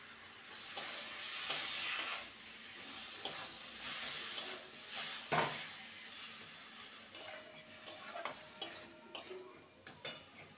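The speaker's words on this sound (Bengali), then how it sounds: "ভালো করে নেড়ে নেব।" Boiled taro leaves are stirred in a pan for a vegetarian dish, with a soft, steady sizzle under irregular ticking and scraping spatula strokes. The sound is fairly quiet, with no one speaking.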